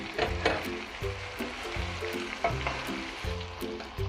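Potatoes and carrots frying in a pan with chorizo and hotdog, a steady close sizzle punctuated by rhythmic scrapes and clatters of stirring.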